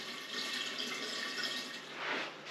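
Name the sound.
water poured through a colander into a biOrb aquarium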